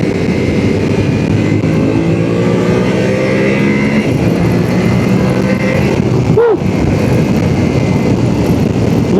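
Yamaha Tenere 700 (2026) motorcycle engine pulling hard on a test ride, a loud steady drone with rising harmonic tones as it accelerates, wind rush throughout and a brief swooping tone near the end.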